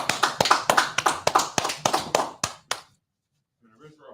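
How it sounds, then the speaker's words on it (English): A class audience claps in a fast, sharp rhythm, loud crisp hand claps for about two and a half seconds that trail off into a few last slaps, then near silence with faint voices. "Let's clap for that."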